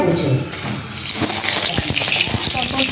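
Pointed gourd frying in hot oil gives a steady, close sizzle, with small crackles and stirring scrapes running through the whole stretch.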